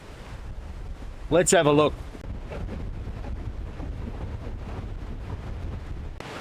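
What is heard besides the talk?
wind at Mitta Valley campground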